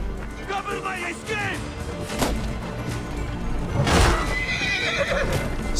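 A horse in Assassin's Creed: Origins neighs and whinnies with clip-clopping hooves, loud and close, over continuous game noise and a crash, while a voice speaks briefly.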